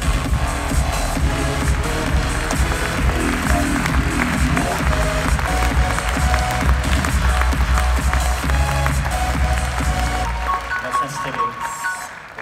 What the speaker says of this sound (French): Applaudissez-les!